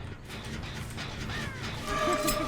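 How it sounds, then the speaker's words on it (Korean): Crows caw in the Dead by Daylight video game, a few harsh calls sounding moderately close over a continuous murky game ambience. "까마귀"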